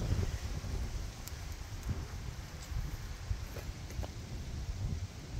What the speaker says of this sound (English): Pretty windy out there today.